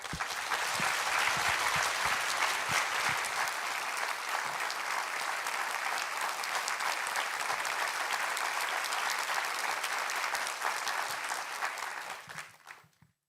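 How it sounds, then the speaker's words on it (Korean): A church congregation gives sustained, dense applause to welcome a missionary at a Sunday worship service. The clapping stays loud and steady for about twelve seconds, then tapers off. "큰 환영과 또 감사의 박수 전해드리도록 하겠습니다"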